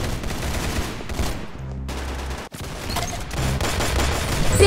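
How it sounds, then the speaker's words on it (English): Shotgun blasts in the Roblox shooter Arsenal, a loud string of close booming shots with a brief gap partway through and no talk. "With a shotgun? Shotguns are like my specialty"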